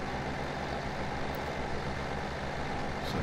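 A lower-priced economy tractor engine in Farming Simulator 17 idles with a steady, low, pulsing diesel drone, even and moderately quiet from start to finish with no voices over it.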